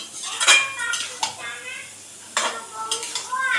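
Mutton masala with whole garlic cloves being stirred and sautéed in a pot, metal spoon scraping and clanking against the pot in irregular bursts over a faint sizzle, close and clear.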